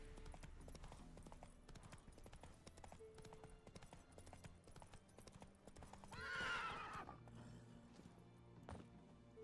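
Hooves of the horse Roach clip-clopping along a road in The Witcher 3, a steady quiet walking rhythm with a brief whinny rising in the middle, set against game ambience.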